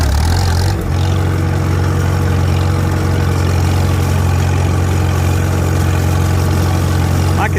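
An antique tractor engine runs loud and close with a steady low throb, and its pitch jumps up sharply near the start as the throttle is opened, then holds at a high, even roar.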